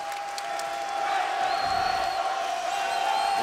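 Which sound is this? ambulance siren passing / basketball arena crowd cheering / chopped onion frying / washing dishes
basketball arena crowd cheering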